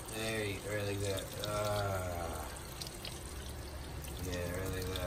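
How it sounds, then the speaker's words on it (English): Tap water runs at high pressure during a pit bull puppy's first bath, a continuous splashing pour with soft speech underneath. "there's little too much pressure to the water"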